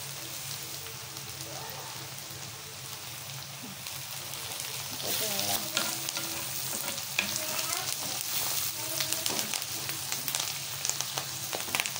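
Bell pepper, green chili and coriander leaves sauté in a clay pot, giving a steady loud sizzle with scraping stir sounds that grow busier partway through.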